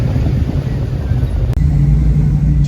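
A hot rod car drives through the middle of Bristol, its engine a loud, close, steady low rumble that continues throughout.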